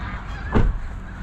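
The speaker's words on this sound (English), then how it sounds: "I'm out here staring at birds." A goose honking as a flock of birds flies overhead: a single brief, loud honk rises out of a quiet outdoor background.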